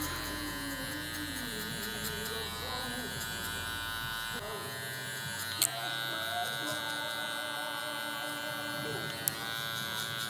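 A Limited Edition LoProFX hair clipper cuts hair with its 1 guard closed, giving a close, steady electric buzz with a couple of sharp clicks, while someone talks over it.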